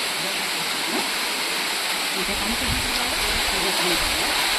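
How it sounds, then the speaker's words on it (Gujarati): A waterfall coming down from the hills of Pavagadh mountain rushes in a steady, dense roar. Faint voices can be heard now and then underneath it. "આ પાવાગઢ પર્વત ઉપરથી ડુંગરો પરથી આવતા આ ધોધ છે"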